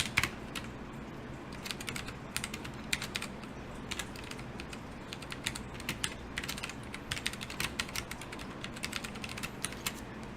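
Steady typing on a computer keyboard, quick irregular keystrokes clicking close by for about ten seconds, with short pauses between bursts and no voices.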